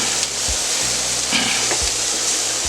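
Chicken and peppers sizzle steadily on a warm steel griddle while chicken fajitas cook, a continuous close frying hiss with a few soft scraping stirs and low thumps, no talking.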